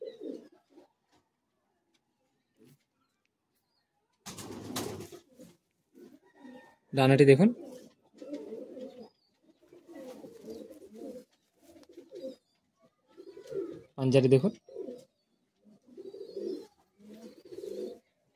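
Madrasi high-flying pigeons in a Kolkata loft give low cooing calls between stretches of someone talking close by, with a few louder bursts rising over his voice.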